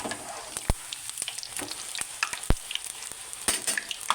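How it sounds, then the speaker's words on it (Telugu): Poori dough fries and puffs in hot oil, giving a continuous close sizzle dotted with sharp crackles and pops of spattering oil. "ఇప్పుడు పూరి వేసుకొని పూరి పొంగాలి"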